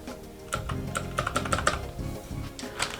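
Typing on a Keychron K6 keyboard with blue switches, a quick run of close, crisp clicky keystrokes in uneven rhythm, heard alone.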